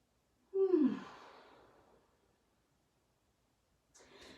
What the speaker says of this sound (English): Take a big breath there.